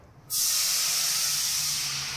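After a brief quiet moment, a loud, sustained sizzling hiss erupts as rabbit marinade with herbs and garlic hits a hot pan and keeps steaming steadily.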